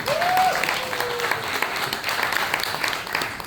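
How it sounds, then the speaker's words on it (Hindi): Studio audience applause for viewers at a Hindi entertainment show, a dense steady wash of many hands clapping throughout, loud and continuous, with a brief voice-like tone at the start. "जोरदार ताली दर्शक के लिए"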